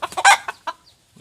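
Japanese Phoenix chicken, a long-tailed ornamental breed, giving a short run of close clucks that end in a brief quieter call.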